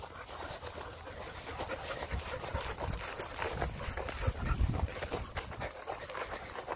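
Working dogs panting steadily during pack work, rapid rhythmic breaths close by with faint shuffling movement and light footsteps, no talk over it.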